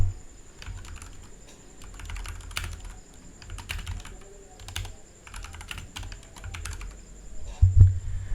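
Close typing on a computer keyboard in clustered bursts of light key taps, separated by brief pauses, with a soft thud near the end.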